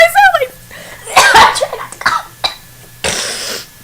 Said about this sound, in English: the reason why I'm coughing so much